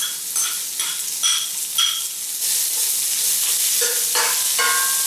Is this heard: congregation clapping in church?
no